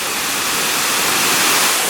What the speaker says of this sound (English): We've got the whole of Tuk Tuk Falls to ourselves.